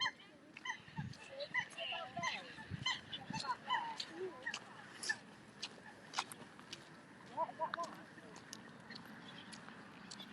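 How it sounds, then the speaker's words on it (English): Honking and squawking birds call intermittently at a distance across a lakeside park, with geese-like honks among them, over faint outdoor ambience and occasional nearby voices. "There's plenty of bird noise across this park anyway. All the birds are making a noise."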